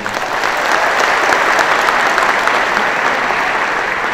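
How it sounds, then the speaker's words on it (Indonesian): Audience applause at a school programme event, an even, dense burst of many hands clapping that holds steady throughout with no speech over it. "Tepuk tangan semuanya."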